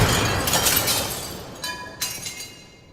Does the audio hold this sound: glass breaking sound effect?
yes